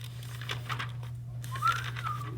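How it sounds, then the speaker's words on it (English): Someone in a precalculus classroom whistles: short airy notes, then a rising and falling whistled tone, faint against a steady low electrical hum with no talk. "Stop with the whistling, because I'm not a dog."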